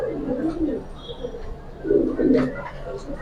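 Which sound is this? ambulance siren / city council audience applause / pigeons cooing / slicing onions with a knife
pigeons cooing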